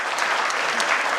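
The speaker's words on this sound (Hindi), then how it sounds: "एक बार ताली बजा करके स्वागत करें उनका" An audience at a ceremony claps steadily to welcome an honoree, a dense burst of applause that fills the short moment.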